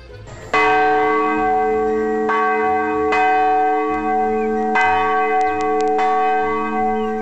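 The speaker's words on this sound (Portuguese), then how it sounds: "é o responsável por ainda bater o sino das 2 igrejas da comunidade" A church bell struck by hand in a rural community, ringing out loud and near in a series of resonant strikes at uneven intervals, each long tone overlapping the next with no talking.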